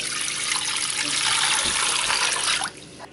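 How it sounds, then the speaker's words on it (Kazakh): Cold water pours steadily into a pot for Nauryz kozhe with a full splashing rush, then stops abruptly near the end; no voices. "Енді оған суық су құямыз."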